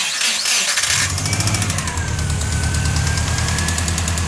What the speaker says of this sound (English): Pretty sure that's just broken engine.